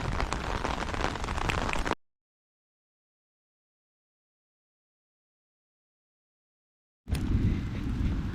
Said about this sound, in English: Of course, the rain is coming, but the fire's still burning